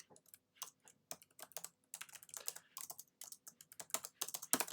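Rapid, close typing on a computer keyboard while coding, with quick irregular keystrokes clattering steadily and no voices over them.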